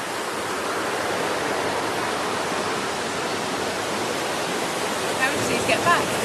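Water rushes over Claverton Weir in a broad, steady roar that fills the whole stretch, with faint voices surfacing briefly near the end.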